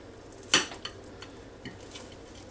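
A knife and fork cut a slice of reheated meatloaf on a plate: a single sharp clink of metal against the dish, followed by a few faint taps and scrapes, close by and with no talking.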